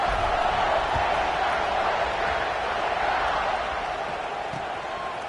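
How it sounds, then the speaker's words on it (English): A football stadium crowd keeps up a loud, steady roar after a score and an extra point, a dense wash of noise with no clear breaks that eases slightly toward the end. "this crowd is buzzing after that last score."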